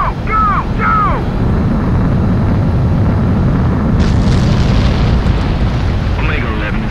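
Fighter jet in Ace Combat 7 on a carrier or runway during a takeoff sequence, a loud continuous low roar of engine thrust throughout, with brief rising whistles and radio-style voices talking over it.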